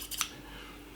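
Scissors snip the tip off a sock in one brief, faint cut near the start, followed by quiet room tone.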